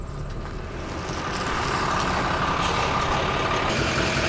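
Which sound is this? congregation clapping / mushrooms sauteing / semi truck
semi truck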